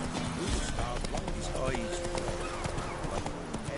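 Horse hooves clip-clop rhythmically at a gallop across The Witcher 3 game landscape, steady and close, with game sounds and a brief voice over the top.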